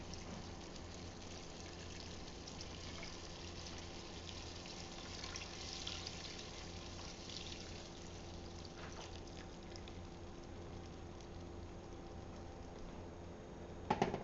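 Chicken broth is poured into a cooking pot in a steady, faint liquid stream that runs on for many seconds, ending with a couple of small clunks.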